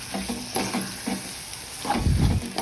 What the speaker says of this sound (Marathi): अशा पद्धतीने टमाटर टाकून याला मिक्स करून घ्यायचं आहे.